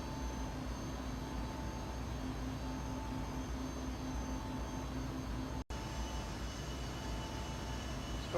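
A steady, low jet engine hum of an Embraer ERJ in cruise flight inside a flight simulator game, continuous and fairly faint with a brief dropout midway.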